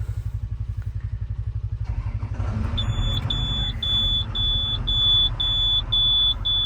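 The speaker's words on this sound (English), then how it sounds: "I think the battery's getting weak on this thing. That's why it beeps like that." An engine on construction equipment idles and rumbles, then a high electronic low-battery beep from a weakening battery starts repeating at a steady quick pace, chirping over the motor noise.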